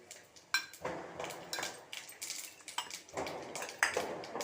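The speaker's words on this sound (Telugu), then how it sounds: "ఇప్పుడు ఇందులో పోపు వేసేద్దాం" Tempering spices are added to a pan as metal utensils clink and scrape against it in a quick, irregular series of light taps, close and fairly quiet.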